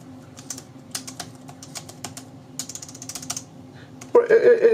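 Rapid, light clicking of keys on a Chesona wireless backlit keyboard, close and clear, an irregular patter of taps that ends as a voice begins speaking.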